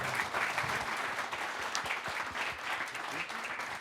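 An audience applauds speakers after their testimonials at an evening event on succeeding in exporting internationally, a steady, dense round of clapping at moderate level, with no talk over it.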